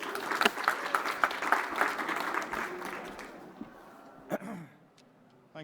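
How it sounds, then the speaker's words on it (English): A crowd applauds a speaker from SEI at a COP26 climate event, with dense clapping that holds steady for about three seconds and then thins out and fades to quiet, leaving a few scattered late claps. "Please clap for him."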